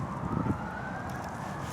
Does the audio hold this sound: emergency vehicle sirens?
yes